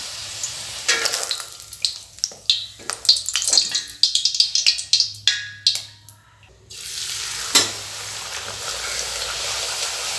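Pooris frying in hot oil, with a series of loud, bubbling sizzles and crackles over several seconds, then a quieter steady hiss of oil before one more burst of sizzling.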